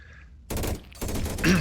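Cannon turrets firing area-of-effect blasts in the video game Deep Among the Swarm: a short burst of loud, booming shots in quick succession after a brief quiet start.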